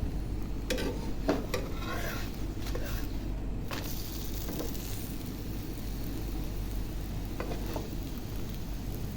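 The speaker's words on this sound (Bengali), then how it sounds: "দেখুন আমি আস্তে ধীরে ভেজে নিতেছি।" A paratha fries slowly in a little oil in a pan, giving a soft steady sizzle with a few light scraping and stirring clicks, no talking.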